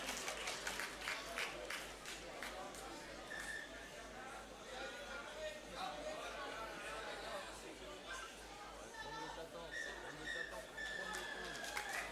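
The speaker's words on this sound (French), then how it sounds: "merci d'applaudir" Spectators at an outdoor rugby sevens tournament clap faintly and scattered across a distant murmur of crowd chatter, with occasional birdsong in the background.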